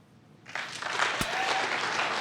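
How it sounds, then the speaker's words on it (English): Stand-up comedy crowd bursting into sustained applause, many hands clapping steadily and loudly from about half a second onward, filling the room without pause. "Clap your hands if you own a gun."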